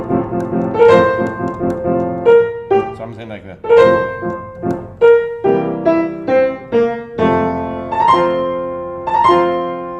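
Part of the second theme from the first movement of Beethoven's Spring Sonata, played as a clear melodic line with separate sustained notes, and a voice speaks briefly at the end.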